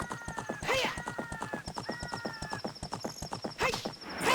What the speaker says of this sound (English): I love that you can have a horse